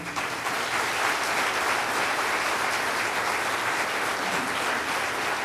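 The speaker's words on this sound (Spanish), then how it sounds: "Le damos un fuerte aplauso." A church congregation gives a strong round of applause for a visiting reverend, a dense, sustained wall of clapping from a big crowd that holds steady and loud throughout.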